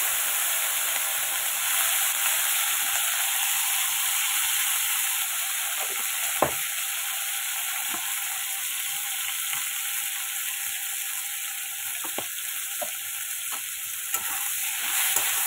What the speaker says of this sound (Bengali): দিয়ে দিচ্ছে যে আলু আর কাঁচকলাটা, যেটা ভালো করে ভাজবো আমি।